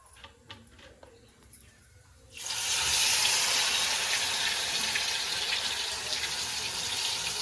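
Alu vadi, colocasia rolls, frying in hot oil, a quiet start giving way after about two seconds to a loud, steady broadband sizzle that continues to the end.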